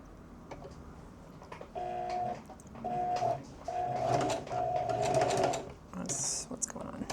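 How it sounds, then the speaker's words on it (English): A sewing machine stitches straight lines on a quilted jacket in three humming mechanical bursts of about half a second, half a second and two seconds. Quieter rustling and handling noises fill the gaps between runs. "I'm gonna sew some straight lines."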